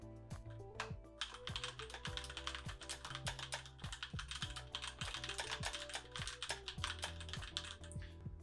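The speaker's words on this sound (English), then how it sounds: "I'm gonna type something here." Touch typing on a computer keyboard at speed, a dense, rapid stream of light key clicks and taps with an occasional heavier keystroke, close and fairly quiet, no talking.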